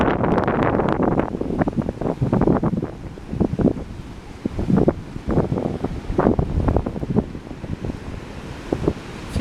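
Strong north wind on a flattened beach at Emerald Isle, North Carolina the morning after Hurricane Arthur, buffeting the microphone in loud irregular gusts with a low roar of surf underneath.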